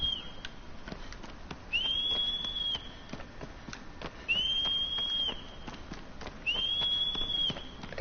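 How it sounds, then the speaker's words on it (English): In Shadow of the Colossus a character whistles three times, each a sustained high whistle lasting about a second, spaced a couple of seconds apart over soft steady footsteps or hooves. "Okay, I don't know why you're whistling."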